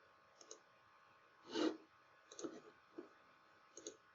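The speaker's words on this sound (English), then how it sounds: "I'm clicking on this policy tab" A computer mouse clicks several times at uneven intervals, faint and close against a low steady background hum, with no talking.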